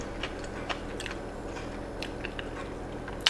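Crunchy asparagus chewed in a quiet room produces soft, irregular crunches and bites, close up and faint, with no talking.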